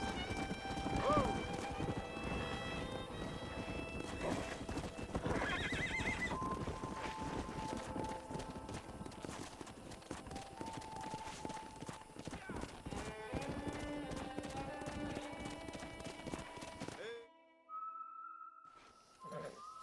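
Horses gallop in fast, dense hoofbeats in Red Dead Redemption 2 while whinnies and neighs ring out, with whistle-like calls and voices mixed in before the noise suddenly drops away.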